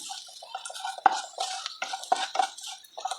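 Cowpeas and spices stirred in a pan make soft, close scraping and clinking as a spoon knocks and drags against the pan in an irregular rhythm.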